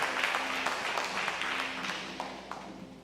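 Church congregation claps together in sustained applause, fairly distant and diffuse, fading slowly with a few louder individual claps near the end.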